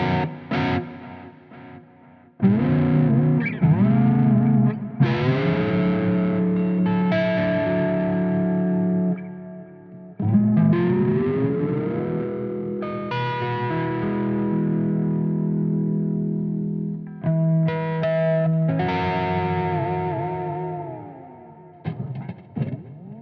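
A headless electric guitar through distortion and chorus rings out in sustained chords and bending notes, loud and close, with pauses between phrases and a wavering shimmer on the held tones.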